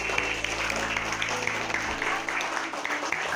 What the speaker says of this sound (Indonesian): Oke, tepuk tangan buat adik.